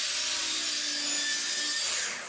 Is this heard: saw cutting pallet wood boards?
yes